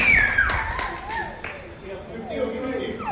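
Spectators clap at a cricket match during a Paryushan Parv festival game, a burst of mixed applause with taps under a commentator's voice, strongest at the start and thinning out.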